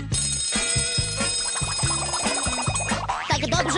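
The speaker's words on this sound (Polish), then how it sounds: "dziś rano znów obudził mnie budzika brzęk" A loud, insistent ringing tone pulsing in a steady rapid rhythm, with bright metallic overtones and a busy musical backdrop.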